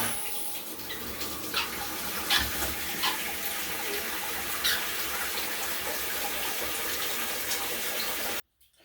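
Water rushes steadily through a toilet supply line after the valve is opened, a continuous close hissing flow with a few small squeaks, ending abruptly near the finish.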